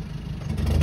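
The remapped 1.9 diesel engine of a panel van revs briefly and rises in loudness near the end, a short close burst with no voices.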